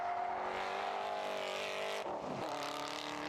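Ginetta race car at Anglesey circuit, its engine droning loudly at high revs, then dipping sharply around two seconds as it shifts or brakes before pulling away again.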